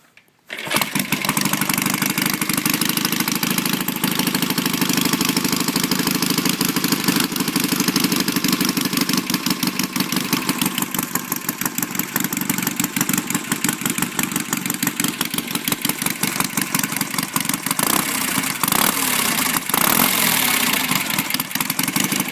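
A 1969 BSA Triumph 650 chopper motorcycle cold-starts with a quick crank, then settles into a loud, close, continuous rapid-firing idle that runs steadily to the end with small fluctuations in its beat.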